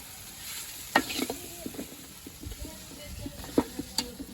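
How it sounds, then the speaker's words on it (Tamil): Ingredients for egg masala sautéing in a pan: a quiet background sizzle broken by scattered spatula scrapes and a few sharper metallic clinks. "இதெல்லாம் வதக்கிட்டு முட்டை போடணுமா"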